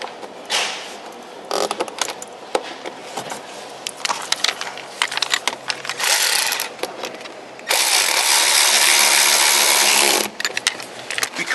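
A power tool drives a screw to fasten a rear carbon fiber mudguard onto a 2014 C7 Corvette Stingray: loud bursts of whirring and clatter, with a sustained steady drive of about two and a half seconds near the end.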